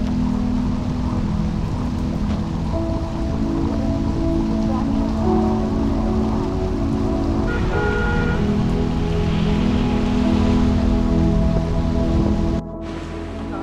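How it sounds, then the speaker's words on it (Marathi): Steady rain showers during a monsoon trek to Korigad Fort near Lonavala patter on a surface in a dense, continuous hiss, with no voices. "पावसाच्या सरी चालूच होत्या"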